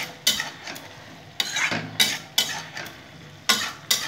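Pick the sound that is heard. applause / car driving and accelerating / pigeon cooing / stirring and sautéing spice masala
stirring and sautéing spice masala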